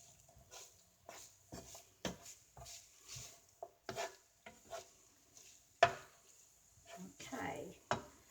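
Onions being stirred in a pan for an allergy-free shepherd's pie, a series of soft scrapes and clacks of a utensil against the pan in an uneven rhythm, close but quiet, with some talking over it.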